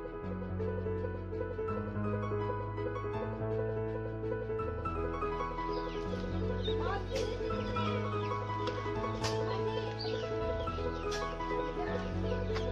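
Chickens cluck on a small poultry farm, a steady flock chatter with scattered sharper calls over a continuous low hum, at moderate loudness throughout.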